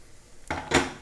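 Pancake batter poured into a hot frying pan gives a sudden sizzling hiss, then a second louder burst of sizzle as the pan is swirled, close and loud.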